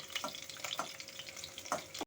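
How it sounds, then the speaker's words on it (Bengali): Potato and cauliflower pieces frying in oil, a soft crackling sizzle with a few sharper pops and stirring scrapes, fairly faint and close, cutting off abruptly at the end. "ওই তেলের মধ্যেই আমি এখন আলু আর ফুলকপিটা একটু ভেজে নেব"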